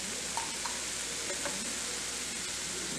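Vinegar goes into Schezwan sauce sizzling in a pan, producing a steady, close hiss of frying with faint stirring clicks and no talk.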